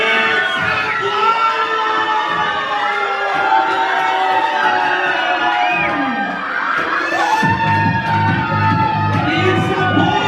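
A crowd of adults and children cheers and shouts loudly at a baby's gender reveal party, a sustained, dense roar of overlapping yells and whoops that carries through the whole stretch with hardly a pause.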